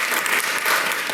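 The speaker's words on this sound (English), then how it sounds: "And now clap." An audience claps together in a steady, dense burst of applause that fills the whole moment at even loudness, with no voices standing out.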